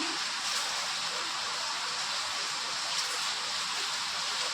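Cumin, dried chilli and garlic sizzle in hot oil in a pan, giving a loud, constant hiss that holds steady throughout with no voices.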